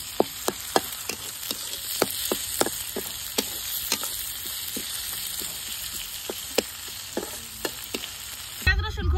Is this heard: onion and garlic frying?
yes